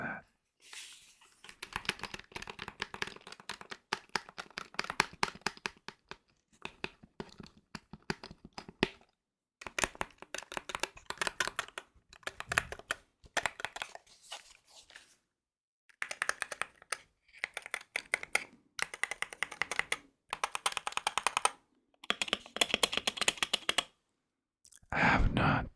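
Keys clacking on a Wooting 60he keyboard, a small 60% board, in steady close-up bursts of rapid typing separated by short pauses, with soft whispering at times.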